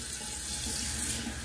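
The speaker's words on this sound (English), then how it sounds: "let me rinse. Cold water rinse." A bathroom tap runs for a cold water rinse during a straight-razor shave, a loud, close, steady splashing stream into the sink with no voices.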